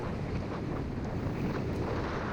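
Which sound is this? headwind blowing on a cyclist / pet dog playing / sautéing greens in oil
headwind blowing on a cyclist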